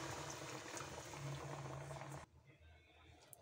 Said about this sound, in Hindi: अब पानी ऐड करेंगे।